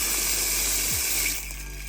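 Water from a pump-fed tap runs at strong pressure, a loud, steady broadband rush that stays close and eases slightly near the end.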